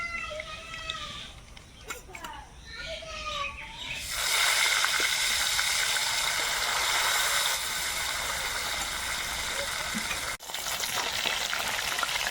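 Bhola fish frying crisply in hot oil in a home kitchen, a loud steady sizzle that swells after a quieter start with some handling clatter, continuing almost unbroken.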